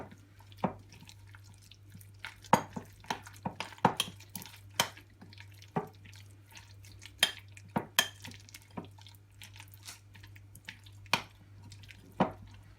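A spoon stirs chili powder and cumin into a cheesy sandwich filling in a bowl, giving sparse, sharp clinks and taps at an uneven pace over a low steady hum.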